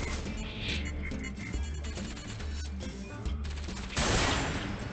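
Gunfire against mechs in the combat game Enslaved, a steady mix of shots and impacts under a layered game score, with a louder crash-like burst near the end.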